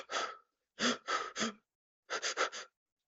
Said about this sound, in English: It starts with this breathing in and out,